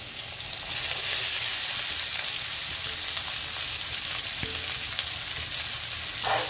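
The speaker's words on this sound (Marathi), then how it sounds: "आता आपण लगेच कांदा टाकून घेणार आहे" Onion tipped into a hot pan with coarsely crushed garlic and cumin seeds, for a spicy onion chutney, bursting into a loud, steady sizzle that carries on without a break. No one speaks.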